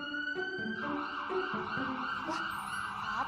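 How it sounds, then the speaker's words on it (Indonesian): A fire truck's siren wails nearby with sustained, rising and falling tones that stay fairly faint and steady throughout. "itu bunyi mobil pemadam kebakaran"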